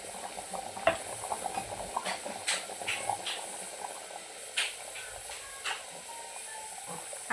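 A pot of mutton handi curry simmers on the stove, giving off faint, irregular bubbling pops and soft clicks over a low hiss, with a few sharper pops scattered throughout.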